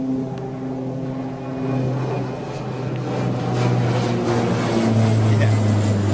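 A WestJet airliner banking overhead, a steady droning engine roar that slowly swells louder, with someone talking over it.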